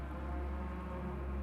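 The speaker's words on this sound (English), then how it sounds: "Oh, we got rain. We got rain." Rain falling during a Gran Turismo 7 race, a steady, faint wash of drizzle over a low, continuous rumble with no voices.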